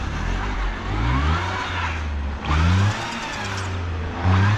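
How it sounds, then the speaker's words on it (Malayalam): A car stuck in snow, its engine revving hard in repeated bursts while the tyres spin without grip. The surges are loud and close, rising and falling over the steady engine drone. "കറങ്ങിക്കൊണ്ടിരിക്ക ടയർ മഞ്ഞ് കിടന്ന്"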